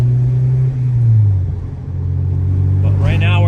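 An Acura RSX Type S engine drones and rises in pitch as VTEC engages while driving on back roads, a loud steady low rumble that climbs toward the end, with a voice briefly heard.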